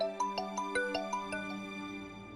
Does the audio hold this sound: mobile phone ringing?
yes